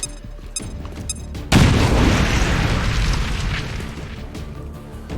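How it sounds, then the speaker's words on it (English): Grenade explosion in the XCOM: Chimera Squad video game: a sudden loud boom after a quieter stretch of game sound, followed by a long rumbling, crackling decay that slowly fades over several seconds. "Grenade out."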